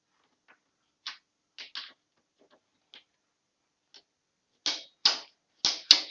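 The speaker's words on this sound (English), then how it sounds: "Till you get the click sound" Sharp, dry clicks from a torque wrench tightening a Royal Enfield rear shock absorber nut, scattered singly and in quick pairs, faint at first and then louder and closer near the end, with no talk.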